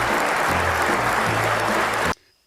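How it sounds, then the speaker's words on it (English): Sustained loud audience applause for a performer, dense and continuous clapping with a low hum beneath, cutting off abruptly near the end into near silence. "Everybody's clapping so long and so loud"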